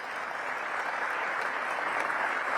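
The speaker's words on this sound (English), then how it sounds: "Let's give Keith a big round of applause" An audience at an economic partnership annual meeting in Washington DC gives a steady round of applause, a dense even clatter of many hands lasting a few seconds.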